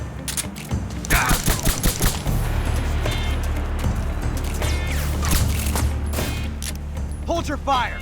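Gunfire in the video game Metal Gear Solid 3: Snake Eater, rapid bursts of sharp shots crackling in quick clusters over a low continuous rumble, with a voice calling out briefly among them.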